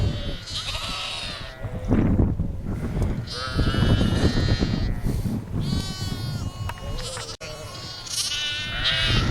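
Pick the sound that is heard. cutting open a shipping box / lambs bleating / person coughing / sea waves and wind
lambs bleating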